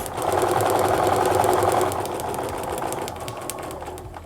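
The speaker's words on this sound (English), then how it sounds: "I'm going to go ahead and sew forward and back to reinforce those stitches." Sewing machine stitching forward and then reversing to reinforce a seam while paper piecing a quilt block, a steady close-up mechanical whir and needle rattle that drops slightly in level partway through.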